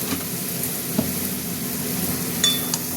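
Masala spices fry in a pan for a spicy pointed gourd, potato, shrimp and fish curry, giving a steady, close sizzle with a few soft stirring knocks and scrapes throughout.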